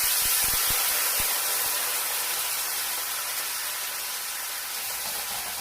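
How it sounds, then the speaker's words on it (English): White wine hits a hot pan of seared shrimp and garlic, giving a steady loud sizzling hiss that slowly eases, with a few faint clinks early on and no talking. "we're going to take some of our white wine right into the pan."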